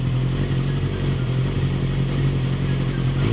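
A motorcycle engine in the mobile battle royale game PUBG Mobile, a steady, loud mid-pitched idle hum with a constant drone and slight clatter, heard alone.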